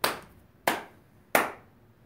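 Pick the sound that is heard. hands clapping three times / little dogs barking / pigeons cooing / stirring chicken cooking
hands clapping three times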